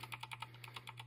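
A new Red Dragon computer keyboard is typed on, giving a quick even run of about a dozen light, crisp key clicks, fairly quiet and close, with no talking.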